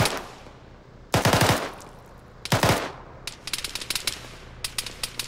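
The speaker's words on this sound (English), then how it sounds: "get on the gun, start shooting south" A mounted machine gun fires several sharp, loud bursts, first two longer volleys and then a string of quick separate shots, close and with no talking over them.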